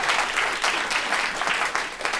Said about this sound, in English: So you can applaud for that.